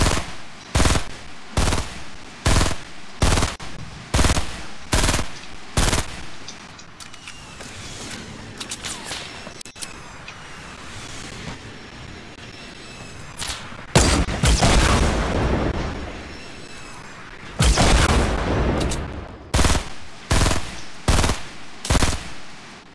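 Rapid bursts of assault rifle fire in the Fortnite video game, a string of sharp regular volleys that pause mid-clip under a mechanical creak, then return loud and close near the end.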